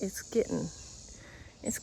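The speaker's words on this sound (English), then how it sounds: "you hear all the like croaking things, like all the bugs that make noises" Insects chirp outdoors before a storm, giving a faint, steady high-pitched trill that runs through the whole stretch beneath a woman's speech.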